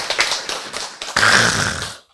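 An audience at a health lecture claps: scattered taps at first, then a fuller burst of applause that fades out near the end.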